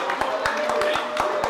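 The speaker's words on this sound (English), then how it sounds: "Clap it up for BP." A small group claps a steady, fairly quick rhythm for BP at the close of a podcast episode. The sharp, even claps sit close by under an ongoing tonal hum and some talk.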